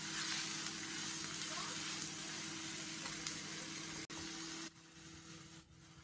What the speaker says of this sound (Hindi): अच्छी तरह भूनेंगे पहले, बाद में इसके अंदर हम मसाले ऐड करेंगे